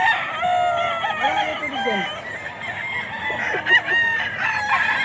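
Stag roosters crowing repeatedly at a busy Bocaue pet market in the Philippines, several overlapping cock-a-doodle-doo calls and clucks near and far over steady crowd murmur and faint background voices.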